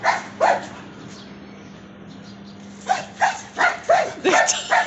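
A German shepherd dog lets out a string of barks, yips and whimpering sounds, loud and close, with a quiet stretch in the middle before a rapid burst of barks near the end, and no one talking over it.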